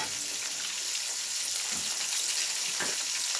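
Rice toasting in oil and a spoonful of ghee in a pan, a bright, continuous sizzle with soft stirring scrapes and crackles, close and steady.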